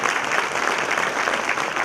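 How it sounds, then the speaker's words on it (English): An audience at a power engineers' meeting in Hyderabad breaks into dense, continuous applause, loud and close throughout. "We should applaud, give a big flag."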